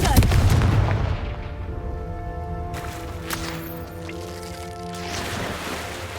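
Fiery Confringo spell blasts in Hogwarts Legacy, a loud booming impact up front followed by sustained crackling, ringing magical tones and rumbling bursts that swell again near the end, with no talking.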